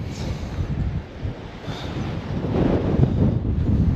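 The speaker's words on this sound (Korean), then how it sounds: "바람 너무 많이 부는데" Strong seaside wind buffets the microphone in a continuous rough roar that swells louder toward the end, with no speech over it.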